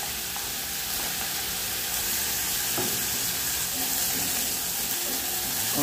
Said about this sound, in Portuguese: É bom fritar um pouco a cebola